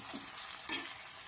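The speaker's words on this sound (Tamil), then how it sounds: "தேங்காய் எண்ணெயில் போட்டு தாளிக்கிறேன்." A soft, steady sizzle of onion and garlic frying in coconut oil, faint and close, with a brief stir in the middle.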